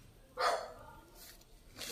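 Dog barking outdoors during a casual walk, one clear bark followed by fainter, softer yelps a short distance away.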